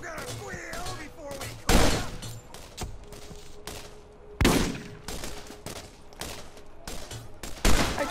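Rapid gunfire from Borderlands 2, loud bursts and single shots scattered irregularly across the clip with brief gaps, some close and punchy, others quieter.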